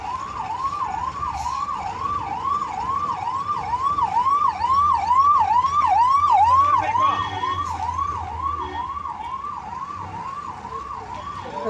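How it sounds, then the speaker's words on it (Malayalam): An ambulance siren wails in a fast, repeating up-down cycle amid road traffic near Perinthalmanna, loud and close, with a low engine rumble of vehicles underneath. "ആംബുലൻസ് ഒക്കെ പോകണം"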